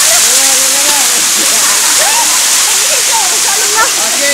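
Steady broadband rush of an Aguinid waterfall splashing against a rock wall during rappelling, loud and continuous throughout with people talking and calling out over it.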